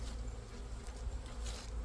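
Honey bees buzz around a hive entrance in an apiary, a steady close swarm drone with no talk.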